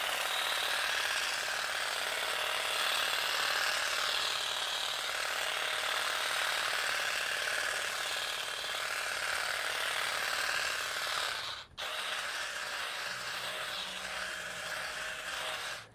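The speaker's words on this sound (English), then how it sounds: "Here's the 8-inch hedging blade." A SKIL 20V extending hedge trimmer fitted with an 8-inch hedging blade runs with a steady, loud, buzzing mechanical drone that cuts out for a moment near the end, then resumes.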